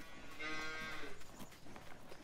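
Cows in a pen low in Farming Simulator 19, one drawn-out moo up close followed by fainter lowing over a soft farm backdrop, no voices.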